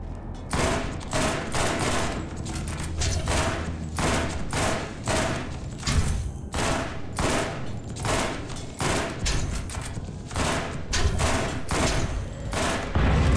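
Rapid rifle gunfire from the video game Borderlands, a dense continuous barrage of loud sharp shots with game sound effects behind, heavy and sustained throughout.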